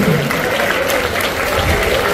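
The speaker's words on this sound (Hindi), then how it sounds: "जब तक बच्चे यहाँ नहीं पहुंचे तालियां बजती रहनी चाहिए।" Sustained audience applause at a student speech competition held for Eid-e-Milad in Bhusawal, a dense steady roar of many hands clapping throughout, loud and close with faint crowd murmur underneath.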